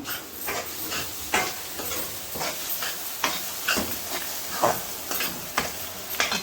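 Ginger garlic paste frying in a pan for an egg curry with onions, a soft continuous sizzle and hiss broken by regular stirring scrapes, close and moderately quiet with no talking.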